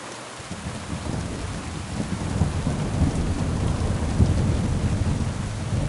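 A thunderstorm in the medieval game Kingdom Come Deliverance 2 brings steady heavy rain and a deep, rolling thunder rumble that swells and recedes over several seconds, with no voices.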